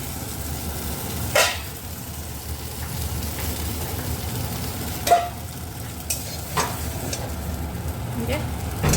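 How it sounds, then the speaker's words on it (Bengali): Large eggplant pieces frying soft in oil make a low, steady sizzle, broken by a few sharp clanks of a utensil against the pan. "চলো বেগুনটা আগে ভাজা ভাজা হয়ে যাক"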